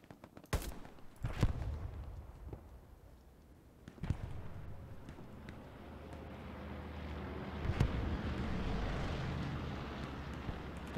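Scattered gunshots in Hell Let Loose crack at a distance over wind and a low rumbling backdrop, with a few sharper bursts standing out.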